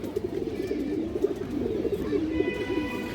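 A male pigeon cooing in a steady, low, rolling series of coos, close by and continuous.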